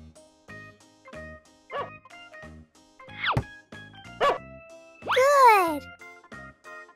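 A cartoon puppy in a stop-motion clay cartoon for children gives several short, high yips and barks among brief spoken lines, the last bark loudest and drawn out, with light jingling in the background.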